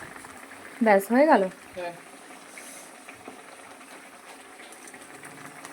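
Tilapia fish curry bubbling in a pot on the stove, a steady low simmering hiss that continues after a short burst of nearby talking.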